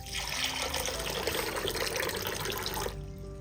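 Water pours steadily into a bowl of washed urad dal and fenugreek seeds to soak them, a continuous splashing fill that runs for about three seconds and then stops abruptly.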